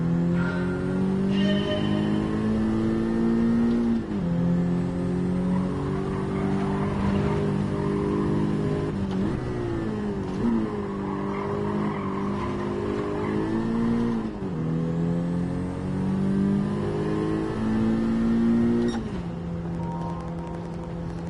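Honda Civic Type R engine in Gran Turismo 7, revving hard and steadily through repeated gear changes, pitch climbing and dropping in cycles, loud and close throughout with no talking.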